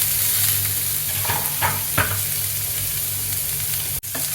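Sliced tomatoes sauté in chana masala, a steady close sizzle broken by a few scraping stirs and a sharp click near the end, with no voices.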